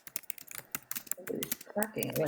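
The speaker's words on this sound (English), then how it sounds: "we're hearing people typing" People typing on computer keyboards during a remote community workshop on a housing plan: rapid, irregular clicking keystrokes close to the microphone, with a voice beginning to speak over the tapping toward the end.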